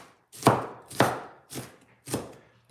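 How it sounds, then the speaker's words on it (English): A knife chops food on a cutting board during home cooking of spaghetti with meat sauce, four distinct, evenly spaced thuds landing close and clear with quiet gaps between. "so we're chopping this up"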